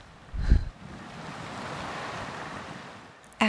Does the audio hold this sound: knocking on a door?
no